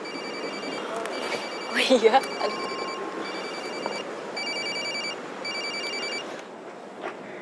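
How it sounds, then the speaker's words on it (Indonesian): A telephone bell rings in repeated bursts inside a home during an Indonesian TV drama, steady and moderately loud, with a short spoken exclamation and background voices partway through. "Telepon tuh, angkat."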